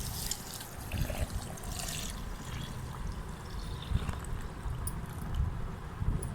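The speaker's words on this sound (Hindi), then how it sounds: "अब इसमें हम डालेंगे पानी।" Water is poured steadily into a raw mango juice mixture, a continuous close splashing trickle with no talking.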